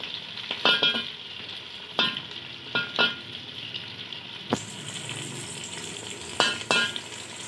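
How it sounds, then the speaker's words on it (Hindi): Whole garam masala spices dropped into hot oil for qeema matar, a soft steady sizzle with several sharp clinks and stirring scrapes of a utensil in the pan, close and clear without speech. "तो पहले हम डाल देते हैं साबुत गरम मसाला।"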